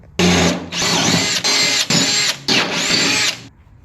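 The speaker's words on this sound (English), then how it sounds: "start drilling these out to a 17 32nd hole" A power drill whines steadily through several close, loud bursts separated by brief dips, drilling 17/32-inch holes in metal on a 1967 Mustang, then winds down into near silence.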